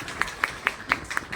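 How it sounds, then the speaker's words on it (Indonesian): An audience at a formal speech gives a short burst of applause: five or six distinct, fairly sharp claps spaced evenly, somewhat distant in a hall, with no voices over them. "tepuk tangan dulu untuk beliau."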